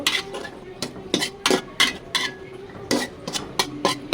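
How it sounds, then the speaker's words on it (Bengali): A metal lid and utensils clatter against a cooking pot of jackfruit seeds, a series of sharp, close clinks and knocks in an uneven rhythm, a few quick taps grouped together between short pauses. "এখন এটা ঢাকনা দিয়ে ঢেকে দিব।"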